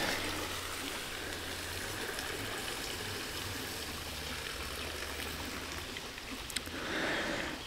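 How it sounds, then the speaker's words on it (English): Water rushes steadily down a micro hydro penstock pipe, a continuous broad hissing flow with a low hum underneath, close and even from start to finish. "let the water go down into the pipe"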